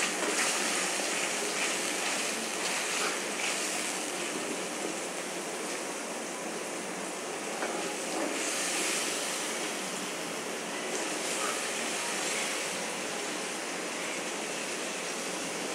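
Tomato paste frying in a pan for a pointed gourd (potol) curry, a steady broadband hiss and crackle that holds evenly throughout at moderate level, with no talking.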